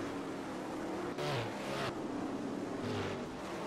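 Sprint car engine from the Tony Stewart Sprint Car racing game, a 410 sprint league race: a steady engine drone with two louder passes swelling up, each lasting under a second, close and fairly strong.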